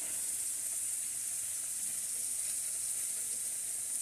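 Spices with a little dried chili powder, salt added, fry in a kadai, giving a faint, even hiss and sizzle that runs unbroken and quiet throughout, with no voices.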